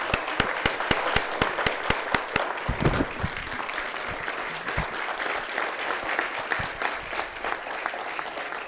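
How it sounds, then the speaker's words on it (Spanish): An audience at a capital markets congress applauds the communications department team, with a few sharp distinct claps at first giving way to a dense, sustained round of clapping across the room. "un gran aplauso"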